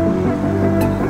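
A KTM Duke 250 motorcycle rides through water on a Ladakh road trip; a steady, loud engine hum dominates the brief moment, with a short splashy burst near the end.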